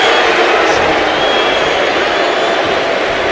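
A large arena crowd in the wrestling video game WWE 2K25 roars continuously, a dense wash of cheering that stays loud and steady throughout.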